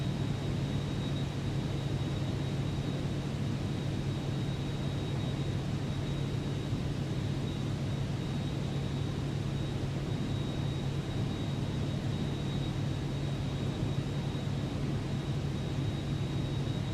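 Steady, unbroken roar of a Cirrus Vision Jet engine held at throttle in Microsoft Flight Simulator, a constant broadband hiss with a low drone and a thin high whine, with no talking.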